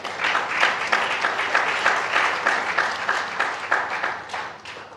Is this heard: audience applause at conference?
yes